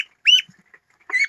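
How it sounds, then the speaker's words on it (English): Two short, bright quacking calls from Swedish blue ducks, close by, separated by a near-silent pause with a few soft peeps. "these are Swedish blue ducks"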